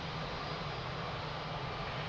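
Airplane engine roaring steadily during takeoff at Lisbon Airport, a broad continuous rumble held at constant loudness throughout, heard alone.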